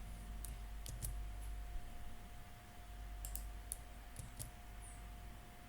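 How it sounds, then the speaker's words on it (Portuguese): Faint, scattered key clicks come from a computer keyboard as a Kahoot game PIN is typed, a few quick taps in small bursts over a quiet background hum. "eu vou estar digitando o número da atividade"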